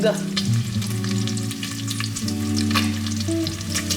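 Bacon fries in a pan with a loud, steady crackling sizzle close up, small pops scattered through it and a low steady hum beneath, with no one speaking.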